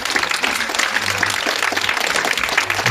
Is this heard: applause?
yes